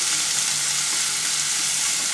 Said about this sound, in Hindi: और इसे हमें आधा मिनट भी सौते करना है।